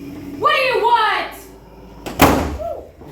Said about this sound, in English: The door slammed